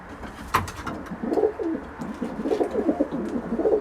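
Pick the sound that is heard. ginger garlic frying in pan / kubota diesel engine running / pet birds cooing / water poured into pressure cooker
pet birds cooing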